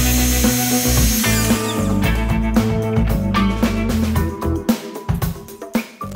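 An electric gun runs during a house renovation, a whining, buzzing motor with shifting pitch that turns into choppy bursts and clatter toward the end.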